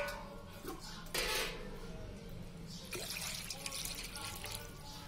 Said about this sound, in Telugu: సో చూడండి 1 లీటర్ వరకు నీళ్లు పోస్తున్నాను